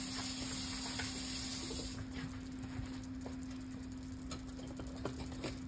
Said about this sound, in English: Let it simmer in this curry sauce.